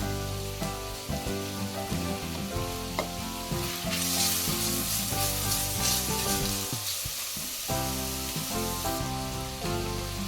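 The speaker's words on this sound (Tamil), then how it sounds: "இப்போ கூட 2 தக்காளியை சேர்த்து தக்காளி நல்லா சாஃப்ட் ஆகிற மட்டும் வதக்கி கொடுக்கலாம்." Onions and tomatoes sauté in a pot, giving a steady, close sizzle with occasional stirring scrapes and no talking.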